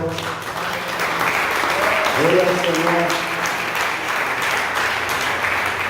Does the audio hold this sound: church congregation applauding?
yes